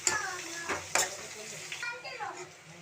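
Onion and tomato frying in a pan for tomato chutney, stirred with a few quick scraping strokes over a low sizzle, close and quiet, with a faint voice briefly in the background.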